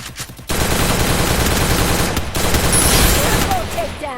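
Rapid automatic gunfire from a shooter video game, dense bursts of shots starting abruptly after a quiet moment and rattling on steadily, loud and close, with a brief pause and faint talk underneath.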